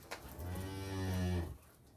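A cow lets out one long, loud, close moo in a barn, lasting over a second before it cuts off into quiet.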